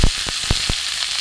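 Ginger, cumin powder and coriander powder sizzle in hot oil in a pan, with a steady frying hiss and several sharp stirring scrapes at even intervals, no voices.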